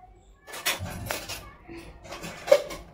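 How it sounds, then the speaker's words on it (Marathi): Dishes clink and clatter as they are set down and stacked, a few sharp knocks of pots and utensils with faint voices in the background. "तर आता भांडी लावून देत आहे"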